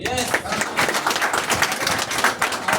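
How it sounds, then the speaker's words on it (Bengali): Audience applause for a company founder at a DXN corporate event, a dense wash of clapping from a crowd that holds steady throughout, with some voices mixed in. "আমাদের কোম্পানির প্রতিষ্ঠাতা সাইন্টিস্ট আর লিন সিজিনের জন্য একটা করতালি হোক"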